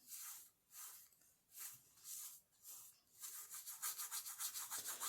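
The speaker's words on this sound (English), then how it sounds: "all you do is wipe the glitter off and it will come up shiny" Sponge wiping glitter off a card, a soft rhythmic rubbing swish repeated in bursts, slow strokes at first then quicker short scrubs, close and faint with no voices.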